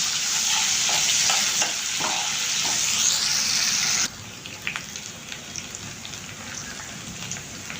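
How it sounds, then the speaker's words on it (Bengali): A large chopped onion fries in a pan for a chicken roast, giving a loud, steady sizzle with scraping stirs that drops to a softer crackle partway through. "একটা বড় সাইজের পেঁয়াজ কুচি করে নিয়েছি, এটা দিয়ে দিচ্ছি। আর এখন এটাকে আমি একটু নরম করে ভেজে নেব।"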